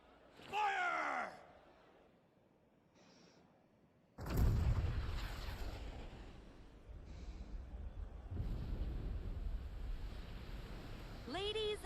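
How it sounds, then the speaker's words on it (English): A single massive cannon blast from Junon in Final Fantasy VII Rebirth erupts with a deep booming roar that rumbles on, preceded by brief vocal sounds and followed by lingering low rumble. "with a single blast of Junon's famous cannon"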